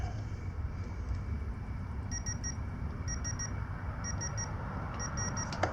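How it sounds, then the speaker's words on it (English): A tool beeps during a cylinder head install on a Kawasaki KLX140 big bore top-end rebuild, giving four evenly spaced groups of three short, high electronic beeps over a steady background hum. "We'll do it until it beeps."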